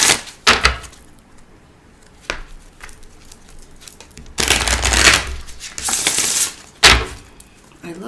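Cards shuffled in several bursts, riffling and patting, with quiet gaps between; a longer flurry of shuffling in the middle, close and moderately loud.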